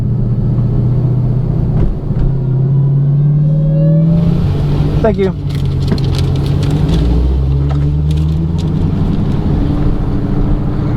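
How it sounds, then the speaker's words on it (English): A turbocharged Ford Mustang accelerates hard down a drag strip during a track test, its engine roaring steadily and loudly with a rising whine and a sharp burst midway, while a voice speaks briefly over it. "Listen at the turbo on that Mustang, and wow, he is quick."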